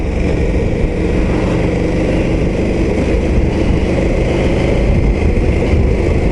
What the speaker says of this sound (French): le bruit du moteur est pas génial